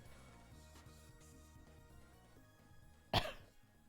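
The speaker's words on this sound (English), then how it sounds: "Don't mind my cough." A single sharp cough bursts out near the end, close and loud, after a quiet stretch of faint ambient hum on the way back to a park after a beach walk.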